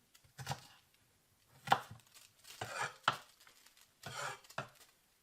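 Rough chopping of an onion with a knife while making venison chilli: quiet, close knife strikes and scraping on a cutting board, landing in scattered clusters with gaps between.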